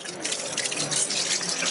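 Water poured out of a container onto a tree outdoors, a steady, fairly loud splashing gush that runs unbroken for under two seconds with no talking.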